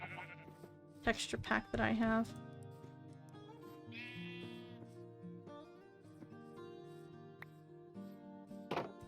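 A sheep bleats in Minecraft, a wavering, tonal cry heard over soft background music, with a few short game clicks and someone talking nearby.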